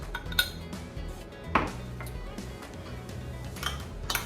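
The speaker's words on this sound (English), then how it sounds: "We're gonna mix all this together, make for a beautiful sweet glaze." A spoon mixing a sweet meatloaf glaze of ketchup, tomato sauce, mustard, brown sugar, salt and pepper in a bowl, giving soft scraping and a few sharp clinks against the sides, quiet and close.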